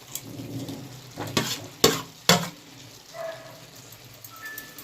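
Eggplant pieces frying in a hot pan for a home-style fish roe curry, a steady close sizzle with a few sharp stirring scrapes and clacks of the spatula against the pan.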